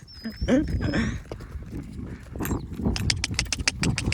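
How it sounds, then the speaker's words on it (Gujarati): A mare being driven slowly with a new rider up gives irregular hoof clops and scuffs, mixed with rustling, thuds and a couple of faint whistles. "ઘોડી હાકે છે ધીમે ધીમે હાકે"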